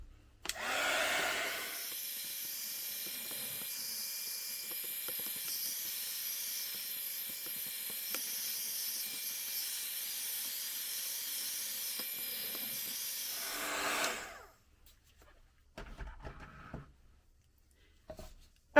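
A hair dryer runs steadily for about fourteen seconds, drying spray-dampened fabric with a loud, close, even whooshing hiss, then cuts off, leaving brief faint handling noises.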